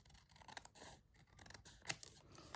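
Scissors snip and trim paper for a journal page, with a series of quiet, close cutting strokes and one sharper snip, faint and with no talking.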